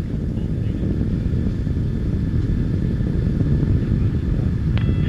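Rocket main engine and solid rocket motors burning during the launch of the MER-B Opportunity rover from Cape Canaveral, a steady, loud, dense low roar that holds without break throughout.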